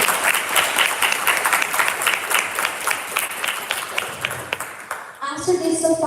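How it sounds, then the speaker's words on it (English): An assembly audience at a veterinary student symposium applauds award nominees, with irregular hand claps over a voice that keeps talking, the clapping fading toward the end before a short burst of a different sound. "you can give a round of applause to the top 5 of Excellence Award"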